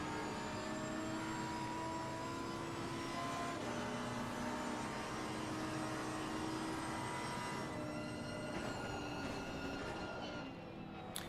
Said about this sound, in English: I was still hearing the engine roar